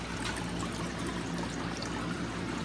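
Frozen bloodworms poured into a bare-bottom fish tank make a steady, close trickling and dribbling of water throughout, with no talk.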